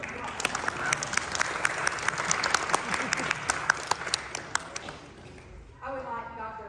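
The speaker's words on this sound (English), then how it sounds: "let's give you a round of applause" A concert audience at a Bach birthday celebration in San Angelo claps in a dense, even round of applause that gradually thins and dies away, leaving a brief tonal sound at the very end.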